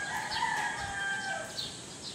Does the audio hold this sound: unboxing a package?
no